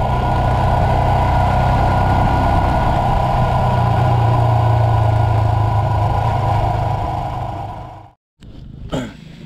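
A Royal Enfield Bullet Classic 500 idles with a steady, deep thumping drone for about eight seconds. It then cuts out abruptly, leaving a brief quiet gap before a short rustle.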